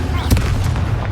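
Deep, booming blast from the Bombarda spell in Hogwarts Legacy, a single heavy impact with rumbling low end and a brief echoing tail lasting about a second.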